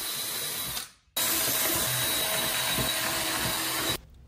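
A power drill boring pilot holes in a wooden table saw cart, two sustained whining runs with a short pause between them, loud and close.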